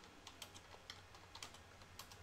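Keystrokes on a computer keyboard as a shutdown command is entered to stop a Jenkins enterprise server, heard as a quick, irregular run of light clicks at close range with no talk, ending in a sharper final key press.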